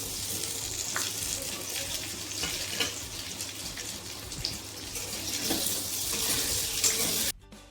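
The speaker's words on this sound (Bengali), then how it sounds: "এই গরম তেলের মধ্যে আমি এবার এই গাট্টিগুলোকে ভেজে নেব" Besan gatte, chickpea-flour dumplings, fry in hot oil, a steady close bubbling sizzle with crackling bursts that runs on throughout, then cuts off abruptly at the end.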